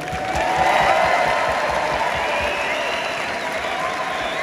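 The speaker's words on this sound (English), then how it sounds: "Ladies and gentlemen, have a round of applause for Evan." An audience at a strongman Viking press world-record event gives loud, dense applause mixed with crowd cheering, a steady wash that holds throughout.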